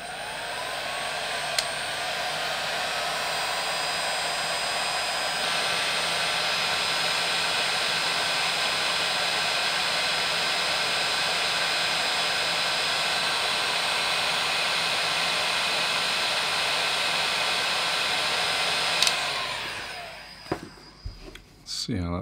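Steady loud blast of hot air, like a heat gun or hair dryer, aimed at a DJI FPV drone camera lens held in pliers, running continuously before cutting off near the end.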